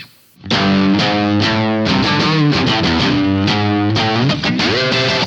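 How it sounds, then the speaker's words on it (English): A heavily distorted electric guitar plays a chugging riff of repeated palm-muted chords and quick note changes, loud and continuous. "I think the guitar is tuned way lower in his song, but the riff goes like this."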